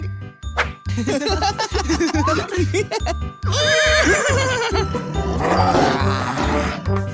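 A horse in a cartoon episode neighs in a loud whinny over a thumping, jingling music bed with a steady pulsing beat, the animal cries rising and wavering through the middle and end.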